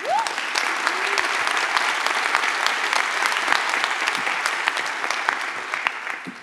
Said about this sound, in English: Please, this is for the volunteer team. Let's give a big round of applause.